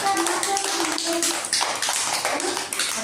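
A group of people clapping along together at a lively gathering, steady rhythmic claps blended with singing and chatter, fairly loud and continuous throughout.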